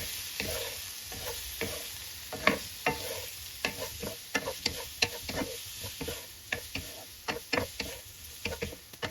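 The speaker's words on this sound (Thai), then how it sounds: "ตัวลูกชิ้นปลาที่เรา ลวกเอาไว้นะคะ ลงไป แล้วก็ผัดให้เขา โดนพริกกระเทียมทั่วๆนะคะ" Blanched fish balls stir-fried with chili and garlic in a pan: a steady soft sizzle under repeated scraping and tapping of a spatula, close and fairly quiet, with no talking.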